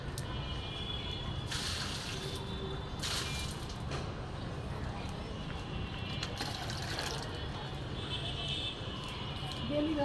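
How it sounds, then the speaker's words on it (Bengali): A bucket fills with water on a rooftop garden, with a steady low rushing and splashing stream that runs throughout and a few brighter spattering bursts on top. "বালতিটা আবারও ভরা হচ্ছে।"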